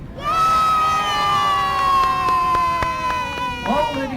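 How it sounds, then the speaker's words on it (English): Crowd cheering at the Peasholm Park naval warfare show in Scarborough, a sustained roar of voices rising and holding across the open-air lake battle, loud and continuous with tonal whistles or horns sounding over it. "So let's give them a big cheer."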